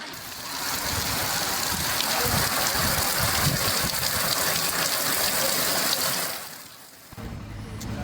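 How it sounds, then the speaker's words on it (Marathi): Heavy rain pours down in Akola in a dense, continuous hiss, then eases briefly before a low rumble of traffic or machinery comes in. "अकोल्यामध्ये सातत्यानं पाऊस सध्या सुरू आहे"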